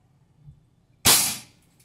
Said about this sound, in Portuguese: que é o estampido do disparo